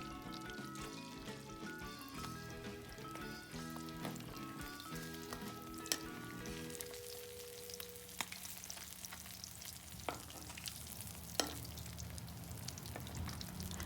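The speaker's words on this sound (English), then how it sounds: "continue to fry in other side in the same time, like 5 minutes." Dried gourami fish frying in oil, a faint continuous sizzle beneath a stretch of background music, with a few sharp clinks from the pan at intervals.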